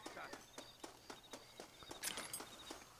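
Horse hooves in the video game Red Dead Redemption clip-clop in a steady walking rhythm, close and fairly quiet, with a light ambient bed behind them.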